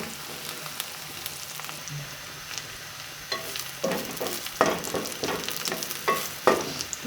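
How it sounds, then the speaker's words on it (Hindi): Onions browning in a pan for palak chana dal, with a soft steady sizzle and frequent sharp scraping stirs that grow louder and busier toward the end, close and alone. "प्याज जो है वो ब्राउन होना शुरू हो गए हैं।"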